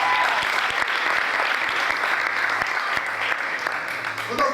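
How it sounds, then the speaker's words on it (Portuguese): A church congregation at an evening spiritual retreat breaks into steady, full applause, dense continuous clapping filling the room with no pause throughout. "Pode aplaudir a palavra."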